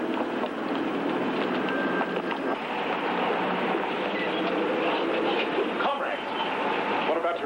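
Steady rumble and rattle of a train rolling along the rails, loud and continuous for the whole stretch, with a murmur of voices underneath.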